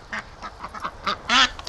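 Domestic ducks quack in a quick series of short calls near a hatching pen, ending with a louder, drawn-out quack, with no talking.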